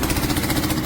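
A 125cc motorcycle engine runs steadily at idle after starting, a loud, even, rapid thrum close by with no voices over it.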